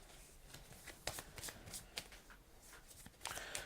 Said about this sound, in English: So I can add a lucky card to my deck and shuffle it.